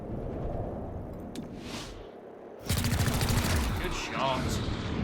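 Rapid gunfire from a squad firefight in XCOM: Chimera Squad, bursting loudly after a quieter lull and running as a dense rattle to the end, with a voice talking over the start.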